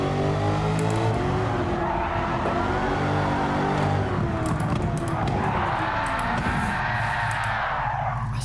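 A GR Corolla with an engine swap spins out in the Gran Turismo 7 racing game, its engine wailing and dipping while tires squeal and skid through the slide, with faint talk underneath.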